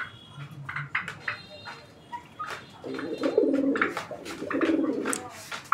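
Male pigeon of a deshi breed cooing in repeated low, throaty bursts, close and fairly loud, with other bird chirps and a murmuring voice in the background.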